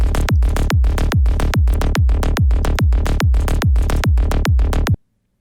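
A progressive psytrance synth bass with unfiltered chorus and harsh, extreme high end pulses in a fast, steady run of about a dozen loud, bright plucks, then cuts to silence.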